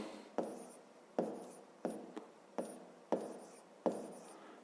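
Pen strokes on paper during a fifth-grade maths exercise, six short scratchy bursts at an even pace, close and quiet with no talking.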